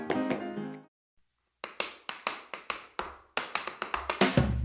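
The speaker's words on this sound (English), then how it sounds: "Tap, tap, tap, tap, tappity tap" Tap dancing shoes click sharply in a quick, uneven run of near, distinct taps after a brief tone and a short silence, with a louder flurry at the end.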